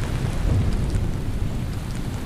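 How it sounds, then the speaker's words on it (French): Steady heavy rain pours down with deep low rumbling thunder rolling throughout, loud and close. "un bruit sourd fait trembler la terre et un éclair zèbre le ciel"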